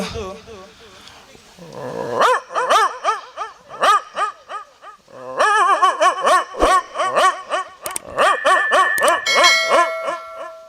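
A mimicry artist on stage voices two dogs fighting, with rapid yelping barks, growls and howls in quick bursts, loud and close over a faint hall background.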